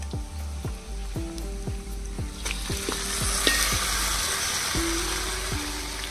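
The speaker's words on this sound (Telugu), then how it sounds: "ఇప్పుడైతే చికెన్ కూడా వేసేసుకుందాం." Chicken pieces fry in a kadai over a wood-fired stove, loud steady sizzling with a series of sharp scraping stirs, close and without voices.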